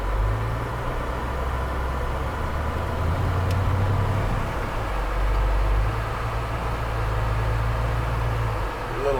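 A 1940 Ford car drives along, its engine and road noise a soft, steady low rumble that rises and dips slightly throughout.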